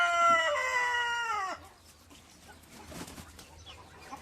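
A rooster on a village farm kept with geese, hens, ducks and chicks gives one loud, close crow lasting about a second and a half, followed by quieter clucking and farmyard noise.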